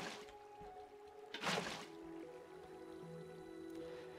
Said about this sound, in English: Now, whenever our water comes out, it should look something more like this.